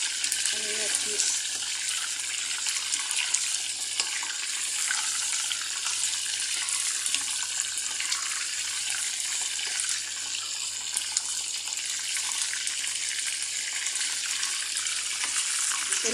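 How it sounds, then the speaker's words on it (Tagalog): Cheese being rinsed under a running kitchen tap, with a steady, close rush of water splashing continuously throughout and no clear pauses. "Hugasan na yung ano na cheese."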